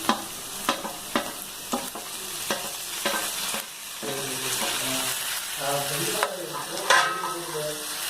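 Onions cooked down in a pan for restaurant-style paneer butter masala, with chopped tomatoes added, frying and being stirred: repeated scraping stirs over a steady close sizzle, with faint talk in the background.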